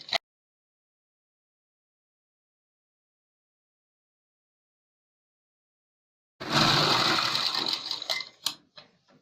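A sewing machine stitches a back neck design on a garment in a quick, brief whirring burst near the end, after a long silence, close and fairly loud with a few clicks as it stops.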